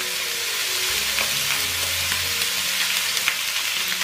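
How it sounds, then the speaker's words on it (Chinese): Chicken pieces stir-frying in a dry wok with no oil, their moisture cooking off. A steady, close sizzling hiss runs throughout, broken by soft scraping and tossing as the meat is turned, with no voices. "先把鸡肉放下去炒香。 锅里不需要放油，先把鸡肉的水分炒干。"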